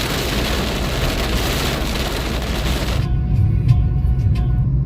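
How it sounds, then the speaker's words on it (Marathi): Heavy rain pours down during a summer thunderstorm on the road toward Jejuri, a dense, loud, continuous hiss that drops to a lower, rumbling wash partway through. "पाऊस चालू आहे, विजा पण चमकत आहेत."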